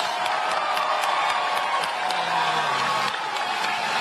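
A large crowd claps and cheers steadily at a political rally, a dense, sustained wash of applause with scattered whoops.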